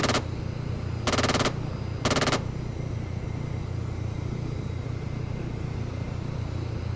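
Minigun fire in a military video game set in the desert, heard as three short, loud bursts spaced about a second apart over a steady low engine rumble.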